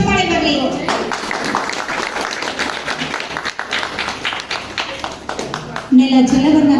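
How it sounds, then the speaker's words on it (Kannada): A ceremony audience claps together, a dense, continuous round of applause that fills the room for several seconds, with a brief louder swell near the end. "ಪ್ರೀತಿ ಚಪ್ಪಾಳೆ ಬರಲಿ."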